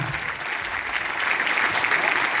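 Loud, dense applause from an audience at a poetry recitation, a steady wash of clapping that carries evenly through a brief stretch with no talking over it.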